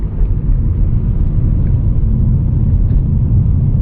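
Wind and tyre roar inside a 2020 Audi A4 S Line driving at night, a steady low rumble with road hiss that holds evenly throughout, no one speaking.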